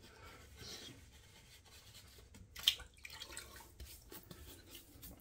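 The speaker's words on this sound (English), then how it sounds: "So now let me just splash a little water in the face because it's been a couple of minutes." Water splashed by hand onto a face during a wet shave, heard as a few soft close drips and wet rubs with a brief sharper splash midway, with no talking.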